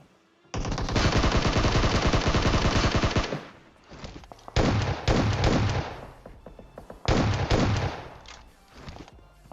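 Loud bursts of rapid automatic gunfire in a game, one long sustained volley followed by two shorter ones, with brief gaps between.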